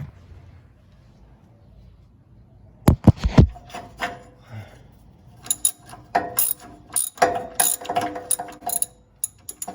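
A ratchet tightens exhaust gasket bolts on a car, giving short bursts of rapid clicking at close range, first a brief cluster and then repeated quick ratcheting strokes, with a quiet pause between them.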